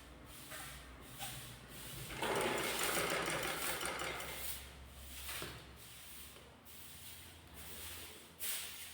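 Sewing machine stitching the neck of a net fabric kurti, a close steady mechanical whir that runs in bursts with short pauses between them.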